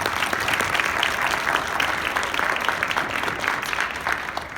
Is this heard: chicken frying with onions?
no